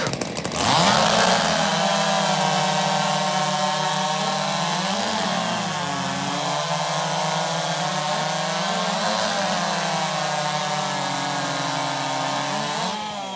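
Modified 660-class chainsaws roar through wood in a saw race at Saw Fest 2024, a loud and continuous high-revving engine whine held for over twelve seconds with slight pitch wavers as the chains bite.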